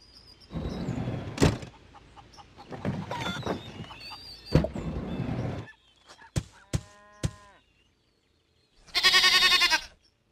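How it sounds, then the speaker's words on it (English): A goat bleats several times in separate bursts, nasal and wavering, with a louder, harsher cry near the end. "Goat."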